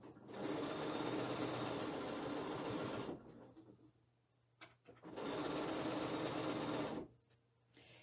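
A sewing machine stitches big quilt pieces in two loud, steady whirring bursts of about three and two seconds. A brief quiet gap with small handling noises separates them, and another short pause follows.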